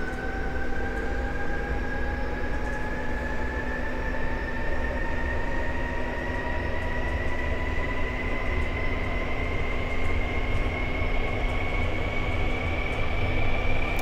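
Startup of a MiG-21bis jet engine in the DCS flight simulator: a steady turbine whine with tones rising slowly and continuously over a low rumble, without speech.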